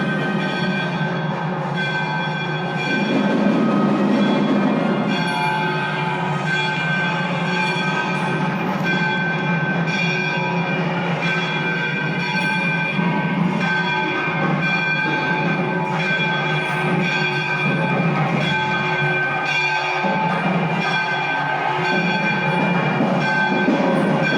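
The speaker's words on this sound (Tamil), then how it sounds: "கரெக்டாக நான் உள்ளே போகும்பொழுது பூஜை பண்ணிக்கிட்டு இருந்தாங்க இங்கே இருக்க அந்த ரியல் சவுண்டு என்ன அப்படின்றத நீங்களே பாருங்கள்" Puja in progress inside the Virudhachalam Vriddhagiriswarar temple, with steady ringing bells and dense metallic clanging that stays loud and continuous throughout, no talk.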